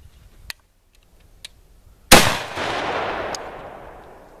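Shotgun firing buckshot outdoors, one loud close blast with a trailing rumble and echo, preceded by a few faint clicks of handling.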